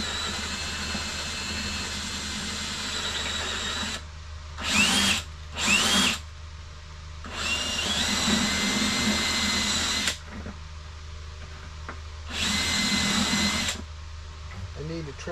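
A drill fitted with a step bit bores through a plastic bucket in several loud whining bursts separated by pauses, with someone talking between and over them.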